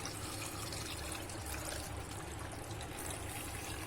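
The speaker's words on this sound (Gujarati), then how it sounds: "હવે જે આપણે ખાટું પાણી છે તે એમાં નાખી દેશું." Sour water is poured into a jar of oil-free, spice-free boriya gunda pickle, giving a steady, soft trickling stream that runs unbroken and fairly quiet throughout, with no talking.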